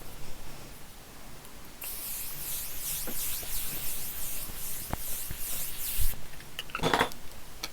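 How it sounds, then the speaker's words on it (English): A misty spray of Morphe face setting spray hisses close by for several seconds in a steady burst, followed by light clicks and handling noises. "I'm just going to spray my face with a bit of the Morphe setting spray"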